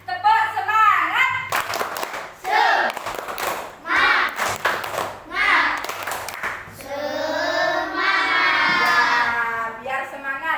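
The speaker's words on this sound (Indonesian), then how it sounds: "kita tepuk semangat" Schoolchildren in a classroom perform a rhythmic spirit clap led by a teacher, bursts of sharp hand claps alternating with the teacher's voice and children's chanting and shouting.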